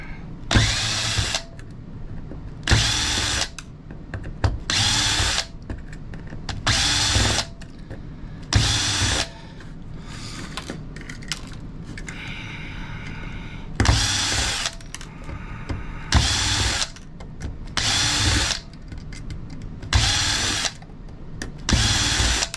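A power drill backs screws out of an electric furnace being scrapped, in repeated short whirring bursts of about a second each with pauses of metal handling between them, close and loud.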